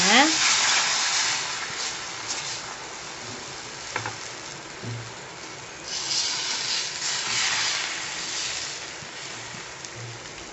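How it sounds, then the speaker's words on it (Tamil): Wheat dosa batter sizzles on a hot griddle, a steady broadband hiss with brief crackling bursts and a few faint low knocks, fairly loud and continuous with no talk. "நல்லா கல் சூடாயிடுச்சு இப்போ வந்து நம்ம தோசை ஊற்றிக்கலாம்"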